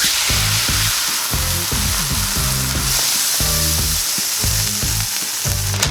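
Birria beef quesatacos with cheese crisp on a hot griddle, a loud continuous sizzle and crackle with tonal, melodic sounds running underneath.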